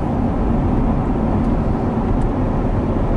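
A C7 Corvette fitted with an Edelbrock E-Force supercharger and NPP exhaust drones steadily and loudly, its exhaust note a continuous low rumble with no talking over it.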